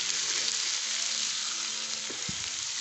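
Steady close sizzle of a dish frying in a pan after lemon juice is added, with a couple of soft stirring scrapes near the end; no talking.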